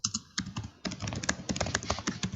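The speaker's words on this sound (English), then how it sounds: "Sorry, I hear some keyboard." Computer keyboard typing during an online conference talk, a rapid run of clicky keystrokes at moderate closeness, continuous through the moment with no talk over it.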